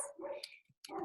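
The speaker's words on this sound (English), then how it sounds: "My dogs are going crazy" Pet dogs inside a house bark in two loud, close bursts with a brief whiny yip between them, separated by a short pause.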